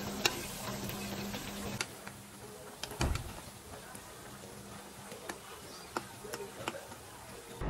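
Potato chops and onion fritters fry in oil in a home kitchen. A soft, continuous sizzle runs throughout, broken by scattered light clicks and utensil taps.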